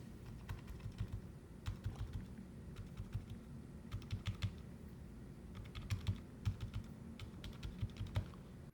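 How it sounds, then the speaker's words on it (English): A mechanical keyboard with black switches is typed on steadily, its dampened keystrokes arriving in quick irregular bursts, close and fairly quiet, with no talking. "Juste un test rapide de son"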